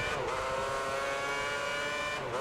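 Race car engine in F1 2010 screaming at steady high revs while powering out of a corner at the Spanish Grand Prix, a loud, continuous whine with layered harmonics and a brief dip near the start and end.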